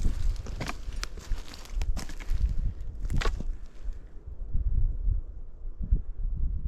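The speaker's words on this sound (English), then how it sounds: "So the wind is making the most amazing sound." Wind gusting on a mountain trail in Kananaskis, a steady broad rushing and buffeting close to the microphone, with a few soft crunching steps along the path and no speech.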